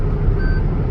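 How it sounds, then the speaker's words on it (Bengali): Car overtaking on a busy four-lane highway at over 120 km/h, a steady close road and engine roar with tyre rumble, heard from inside a vehicle. "এই যে আমার একজন ওভারটেক করে যাইতেছে, সে 120-এর থেকে একটু বেশি চলে।"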